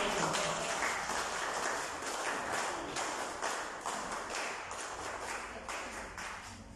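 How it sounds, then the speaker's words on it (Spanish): Steady applause from a crowd, a dense wash of many hands clapping that continues throughout and slowly tapers off toward the end. "Muy bien, un aplauso."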